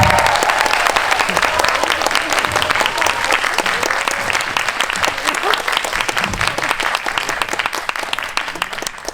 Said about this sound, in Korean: 들어오실 때 아주 열렬한 환호 부탁드리겠습니다